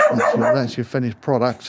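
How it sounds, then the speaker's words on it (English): A dog barks a few times in the background while someone talks close by, the barks partly masked by his voice. "Excuse the dog."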